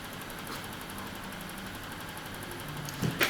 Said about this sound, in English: Washing machine.